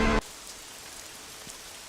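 Rain in the Assetto Corsa racing game at a wet British Grand Prix, a steady soft hiss of falling rain after a brief loud burst at the start, with faint scattered drops.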